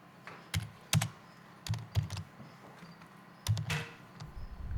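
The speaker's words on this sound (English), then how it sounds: "My typing is a little slow because I'm rusty." Someone types slowly on a computer keyboard: a few sparse clusters of soft, close keystrokes separated by short pauses, in a quiet room.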